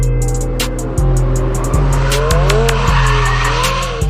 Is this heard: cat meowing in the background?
no